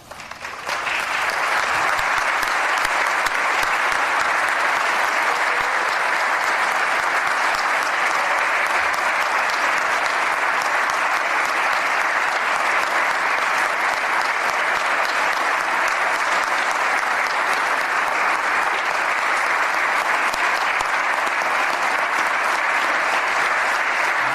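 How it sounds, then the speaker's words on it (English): Sustained audience applause for an honored police sergeant at a hometown hero recognition event, a steady, dense wash of clapping that starts abruptly and continues loudly and evenly for over twenty seconds with no talking. "let's give Sergeant Michael Saddy a round of applause"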